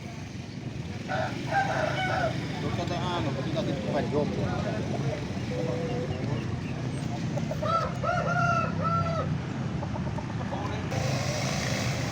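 A pama breed rooster with starling-coloured plumage crows repeatedly at a busy chicken market, the calls standing out over a bed of chatter and background bustle.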